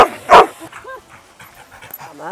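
Labrador dogs react to an overhead drone with one sharp, loud bark, followed by softer whines, yips and panting close by, in an outdoor setting.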